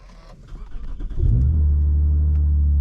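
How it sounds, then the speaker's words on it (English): A modified Lexus IS 350 cold-starts: a brief cranking sound, then the engine catches and settles into a loud, steady, deep rumble up close. "hop in, get us a little cold start."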